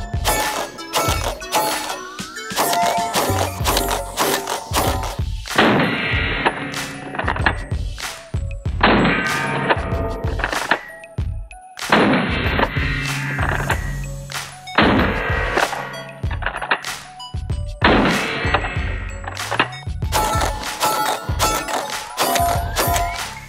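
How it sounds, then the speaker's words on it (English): Repeated shotgun blasts from a Dickinson Commando 12-gauge budget shotgun, loud sharp reports coming in fast strings with brief pauses between volleys, close to the listener, plus clanging action noise throughout. "I brought a bunch of ammo to shoot"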